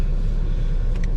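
A Renault Clio Sport 172 engine warms up with a steady, deep idling rumble, close and loud, holding an even level throughout with a brief faint higher tone near the end.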